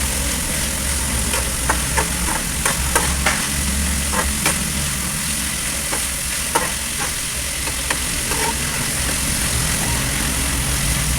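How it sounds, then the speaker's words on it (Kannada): Onion and capsicum frying in a pan for fried rice, a steady loud sizzle under occasional scraping taps of a spoon stirring the vegetables, with no talking. "ಅದನ್ನು ಬಾಡಿಸ್ತಾ ಇದ್ದರೆ ಎಲ್ಲ ಕಡೆನೂ ಚೆನ್ನಾಗಿ ಬೇಯುತ್ತೆ"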